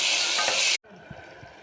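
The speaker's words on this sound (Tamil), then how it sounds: "ஒரு மீடியம் சைஸ் தக்காளி நல்லா வதங்கட்டும்." A medium-sized tomato sautés in a pan with bay leaf, large onion, curry leaves and turmeric, giving a loud, steady sizzle that cuts off abruptly partway through, leaving only a faint low background.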